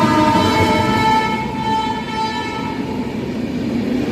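Konark Express, a Mumbai–Bhubaneswar train hauled by a WAP-7 locomotive, running past on a diverted route: a loud, close, steady rumble with a sustained horn tone through the first part, no voices.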